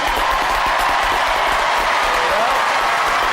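A studio crowd at a Robot Wars heat applauds the Robo Chicken team, loud sustained clapping and cheering in a large arena over a low rumble, with a voice faintly mixed in.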